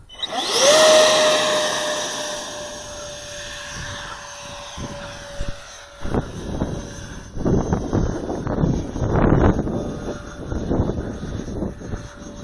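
A FreeWing ME 262 RC jet spools up with a rising whine and roars off the runway on takeoff, the electric ducted fans' tone holding steady while wind rumbles and gusts across the microphone.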